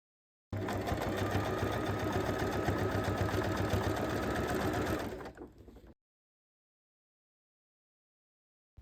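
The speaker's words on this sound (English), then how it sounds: "top stitch it 2 millimeters from the edge" A sewing machine top stitching a tote bag panel, one continuous fast rattling run of about five seconds, close and loud, slowing to a stop before silence.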